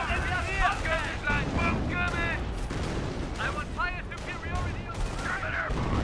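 Bren gun fire in the World War II strategy game Company of Heroes, a mix of bursts and explosions amid battle noise, with a commentator's voice running over the combat.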